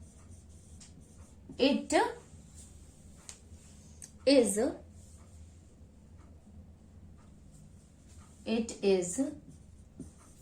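Marker or chalk scratching on a board in a classroom, three short bursts of writing strokes between stretches of quiet room tone, with a voice briefly speaking.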